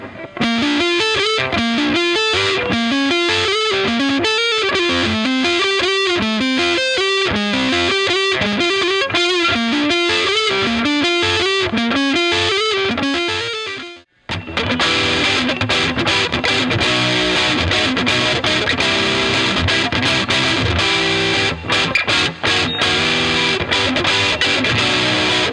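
A heavily distorted Gibson Les Paul Standard '60s electric guitar on the neck pickup plays a lead line with a warm, rounded tone, then shifts into sustained, dense chugging chords for the rest.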